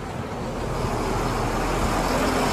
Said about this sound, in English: As you can see here, there's so many buses that come by.